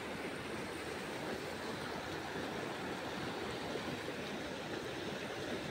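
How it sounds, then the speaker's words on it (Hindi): A waterfall near Khopoli pours down, heard as a steady, broad rushing roar of falling water from some distance, faint and continuous with no voices. "तो देख सकते हैं पूरा वाटरफॉल का पानी नीचे आ रहा है।"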